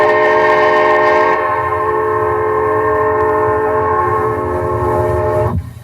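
An early diesel locomotive air horn, the first one made at the Vancouver Iron Works and fitted to a BC Electric locomotive, sounds a loud, sustained multi-tone chord, steady and close, then cuts off abruptly.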